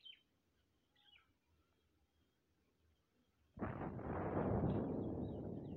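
After quiet with a few faint chirps, a missile strikes a planet in Solar Smash and sets off a sudden loud explosion, a broad roaring rumble that holds for the last two seconds.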